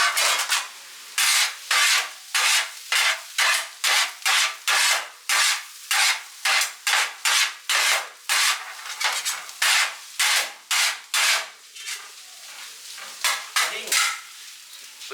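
Kottu roti with egg is chopped and mixed on a hot griddle at a Point Pedro, Jaffna, Sri Lanka stall: a steady, fast rhythm of sharp metal blade strikes, close and loud, over a faint sizzle.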